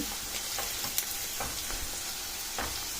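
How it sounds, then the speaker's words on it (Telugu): Onions seasoned with turmeric and salt sizzle softly in a pan for a dill leaves curry, with occasional stirring scrapes over a steady background hiss; close and fairly quiet, with no speech. "ఇప్పుడు ఉల్లిపాయలు పచ్చివాసన పోయే వరకు మనం కొద్దిగా కలర్ మారే వరకు కలుపుకొని పెట్టుకోవాలి"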